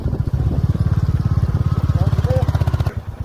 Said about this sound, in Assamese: পাছফালে দেখাই দিওঁ আমাৰ বাইকখন আহি আছে